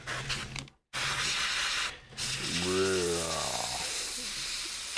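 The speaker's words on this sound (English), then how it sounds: "let me take the tip off of this airbrush" An airbrush with its tip removed sprays paint onto a latex mask, a steady close hiss that drops out briefly, with a voice making a humming, moaning noise partway through.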